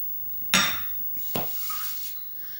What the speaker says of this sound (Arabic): نخدمو هاد الزبيدة مع هاد الزيت